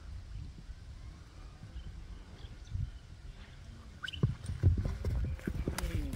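A sturdy horse walks on the ground with irregular hoof clops, which grow louder and closer near the end over a low outdoor rumble.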